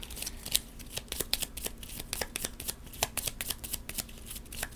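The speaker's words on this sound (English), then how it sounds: "And then we're going to shuffle up their deck." A deck of cards being shuffled for a solo board game, a steady run of crisp riffling snaps close to the listener with no talk over it.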